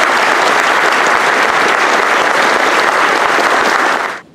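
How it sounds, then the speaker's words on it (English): A luncheon audience gives a loud, dense round of applause for 32 scholar-athlete honorees, steady throughout and cutting off at the end. "Let's give them one more collective round of applause."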